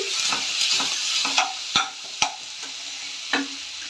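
Food frying in oil in a pan, a steady loud sizzle with repeated sharp scraping clacks from a utensil stirring at irregular intervals.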